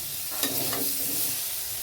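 Potatoes frying in a pan of oil for a light-spiced home curry, a steady soft sizzle with a couple of brief stirring scrapes, close by, with no talking.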